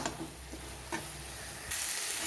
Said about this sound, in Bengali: তাই এখন আমি ঢাকা চাকা দিয়ে নেড়ে চেড়ে নেব মাঝে মাঝে